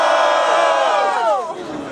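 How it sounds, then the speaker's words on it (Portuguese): A crowd at a Brazilian street rap battle roars and shouts in a loud, close burst of cheering for a rapper, which tails off toward the end. "Barulhos pra quem gostou mais das rimas do Breno"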